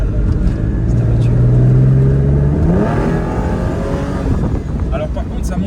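A 22-year-old Porsche 911 Carrera with 248,000 km on it revs hard, its loud, close engine note climbing steeply toward 7000 rpm, while people talk over it.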